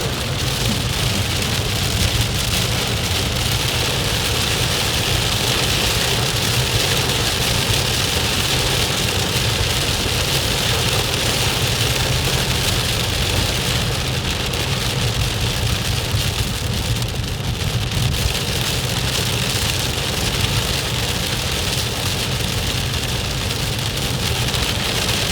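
Heavy rain drums steadily on a car during a driving lesson in Toronto, a dense continuous hiss over a low engine hum, loud and unbroken with no talking.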